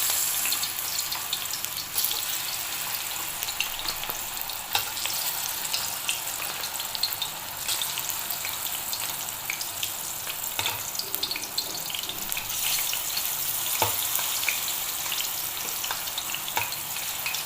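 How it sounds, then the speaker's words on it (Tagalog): Saba banana slices frying in hot oil for a Marinduque batchoy dish, a continuous bubbling sizzle held steady throughout with a few faint clinks of utensils. "mainit na yung ating mantika. Ilalagay natin yung ating pipirtuhin na saging."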